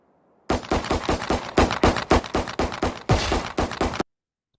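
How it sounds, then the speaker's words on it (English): Rapid bursts of enemy gunfire in the video game Valorant, about a dozen sharp loud shots in quick succession over three and a half seconds, then abrupt silence. "you can hear the gunshot is coming from the left."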